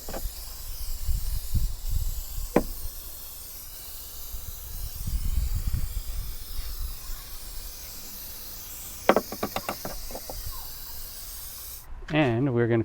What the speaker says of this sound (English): I'm going to spray in some rust converter.